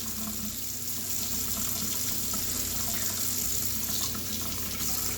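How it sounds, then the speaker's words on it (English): Hot water runs steadily from a tap into a sink, a continuous close hissing splash with no pauses and no voices. "I'm going to turn my water on, and you want some hot water for this"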